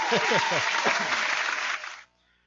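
A canned applause sound effect is triggered from a button. The clapping crowd is bright and thin, and a voice briefly talks over the start before the effect cuts off abruptly after about two seconds.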